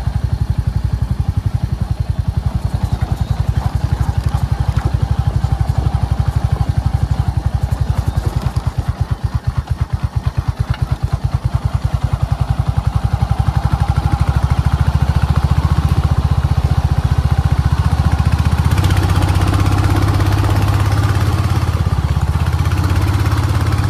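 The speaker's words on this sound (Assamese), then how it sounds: "বাইক লৈ আজি গুৱাহাটীলৈকে যাওঁ" A motorcycle rides along a road, its steady engine drone and wind rumble running continuously throughout, with a deeper rising engine note near the end.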